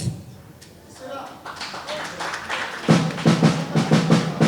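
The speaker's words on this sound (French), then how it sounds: "Merci pour vos applaudissements." Audience applause after a talk, rising from scattered claps into a brisk burst of rhythmic clapping that grows louder toward the end, with a voice talking over the start.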